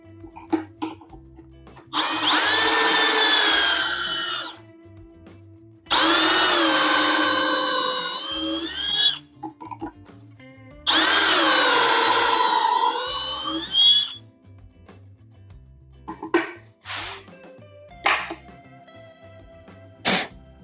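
A power drill whines through 3/4-inch plywood drilling pocket holes in three long, steady bursts separated by short pauses, followed by scattered clicks and brief shuffling sounds.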